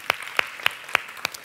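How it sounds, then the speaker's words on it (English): Several sharp, evenly spaced handclaps during a conference talk, each one a distinct crisp slap over a faint background of scattered clapping. "Can we give her a round of applause?"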